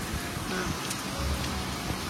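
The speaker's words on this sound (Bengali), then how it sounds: "ভালোই বৃষ্টি শুরু হয়ে গেল" Steady rain patters down in a dense, even hiss, with soft scattered drips and a low background rumble.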